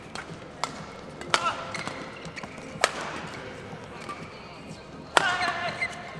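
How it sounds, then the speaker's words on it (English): Yonex Astrox NextAge badminton racket striking shuttles in a hall, producing several sharp but damped, lower-pitched hits spaced irregularly over a quiet, roomy background. "It produces a lower pitch, damped sound instead of the usual ping coming off the strings, especially on a power shot."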